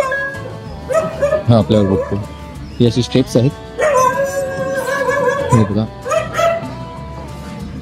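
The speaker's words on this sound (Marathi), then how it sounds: "इकडे एक कुत्रा आहे त्यांचा," A dog at a hotel in Sawantwadi barks in loud, repeated bursts and lets out drawn-out howls and whimpers close by, while someone talks over it.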